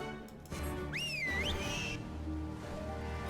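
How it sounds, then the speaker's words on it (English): A shrill whistle in Final Fantasy 14 Stormblood rises sharply, wavers, then holds a high note for about a second, standing out over soft, steady game background sound. "Most obnoxious whistle sound in the game."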